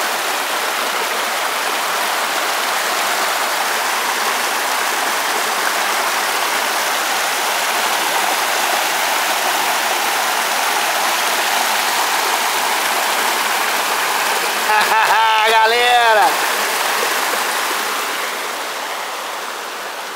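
Spring water flows continuously from its source in a steady close-up trickle and splash, with a brief brighter gurgle near the end before it softens slightly.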